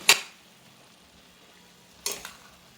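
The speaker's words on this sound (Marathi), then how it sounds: "आता मी झाकण काढून जरा असं ढवळून घेते" Two brief scraping clatters of a utensil stirring thin potato slices in a pan, separated by a quiet pause with faint background hiss.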